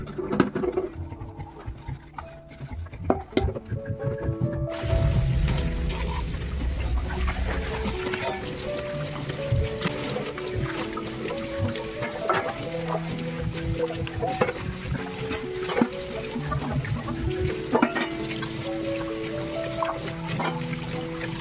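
Dishes being washed by hand with water at a home sink: splashing and trickling water with scattered clinks and knocks of utensils, fairly close and continuous, with no talking.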